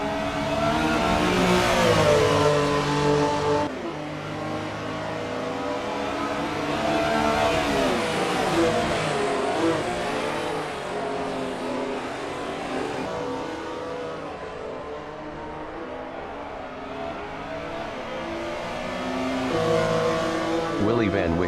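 Race cars in an SMSA Transporter Cup round, engines droning and revving continuously with shifting pitch as they drive past, fairly loud and steady throughout.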